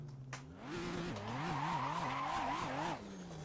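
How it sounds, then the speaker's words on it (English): A car engine with a generic Toyota 2JZ-style sound in the Assetto Corsa racing game, revving in quick rising and falling pulses under a steady tire squeal, moderately loud and alone. "it sounds like it has the engine sounds from the Supra drift car just put into it"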